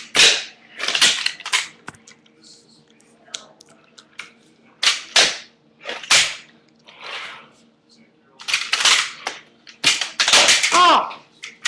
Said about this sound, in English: Double kick flip off.